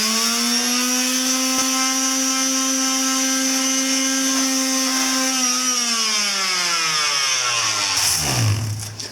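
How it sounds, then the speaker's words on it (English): A power sander with 220-grit paper strips paint from a Yamaha Virago 250 (XV250) chain guard, making a loud, steady, close motor whine that winds down at the end. "now we're going to go ahead and just take the sander to it and get the rest of it off"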